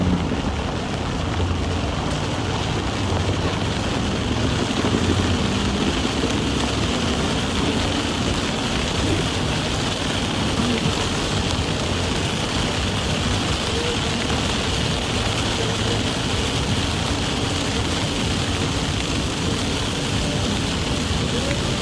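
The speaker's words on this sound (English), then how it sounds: "Is pouring." Heavy rain pouring down outside, a dense constant hiss and wash with wind-like roar, unbroken and loud throughout.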